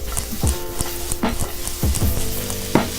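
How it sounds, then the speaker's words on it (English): Onions and other aromatics sauté in a pan with a continuous close sizzle, while a utensil taps and scrapes against the pan in a loose, repeating rhythm as they are tossed. "So we have our main flavor components all sauteing in the pan"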